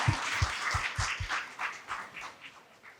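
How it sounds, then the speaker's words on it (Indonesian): Audience applause at a provincial board inauguration ceremony in Bali: a few strong, evenly spaced claps at first, then a looser spread of clapping that tapers off. "Sekali lagi kita tepuk tangan untuk garda kita."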